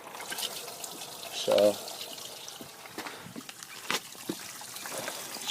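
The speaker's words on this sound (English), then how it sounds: "the drain plug for the radiator, it'll just drip out that hole into the drain pan perfectly fine" Coolant trickles and drips from a 1992 Lexus ES300 radiator drain hole into a drain pan, a faint, uneven splatter close by, with a voice briefly speaking over it.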